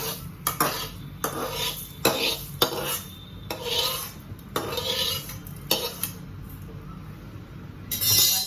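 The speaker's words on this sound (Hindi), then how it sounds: "अभी उड़द की दाल पहले मैं ऐसा भून कर लेती हूँ" Urad dal dry-roasted in a pan, heard as repeated scraping and rattling strokes of a utensil against the pan with metallic clinks in an irregular rhythm, close and moderately loud, without speech.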